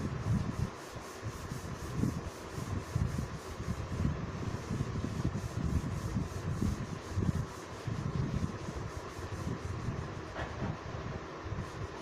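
A duster rubbing writing off a board during a maths lesson makes a continuous scratchy swishing in repeated strokes, steady and moderately loud for the whole stretch, with no talking.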